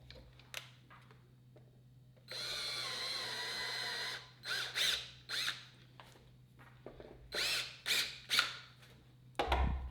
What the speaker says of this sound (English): We're going to drill a 3/8 inch hole right here in order to mount the LED.